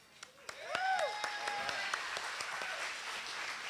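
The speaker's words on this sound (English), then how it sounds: "Big round of applause for Melissa and Laura for all that you have" Audience applause at an awards reception for a 35th anniversary celebration: a sustained wash of clapping from a crowd, with whistles and cheers rising above it, loud and steady for several seconds.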